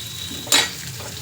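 A single short sizzle flares up as chickpeas go into hot oil for a Karnataka-style tempering (oggarane), loud and close against a quiet kitchen background, then settles into a low steady fry.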